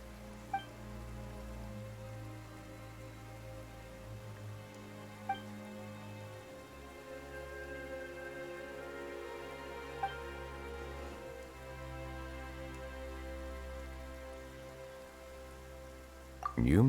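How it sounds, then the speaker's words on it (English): Sudden rain in the video game Genshin Impact, a steady patter of drops on surfaces running throughout under sustained music, with a few soft chimes. "Why is it raining all of a sudden?"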